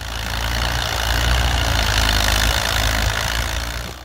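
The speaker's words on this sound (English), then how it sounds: "The D10 was equipped with a 4-cylinder gasoline engine" A 4-cylinder gasoline engine of 138 to 149 cubic inches in a D10 American farm tractor idles loudly and steadily up close, with a deep continuous rumble and a faint knocking texture throughout.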